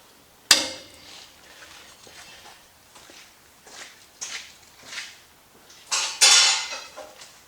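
Metal parts are clamped down during a Willys body build, a sharp metallic clank opening a series of scattered knocks, scrapes and clinks of steel against steel, close and irregular, with brief louder impacts near the end.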